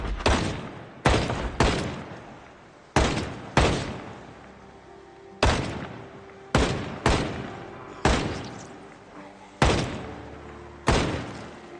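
An M16 rifle fires in the zombie survival game Project Zomboid, with about a dozen loud single shots in pairs and short groups, each followed by a decaying echo.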